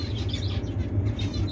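Zebra finches at the start of breeding season chirp in quick, repeated high tweets over a steady low background hum.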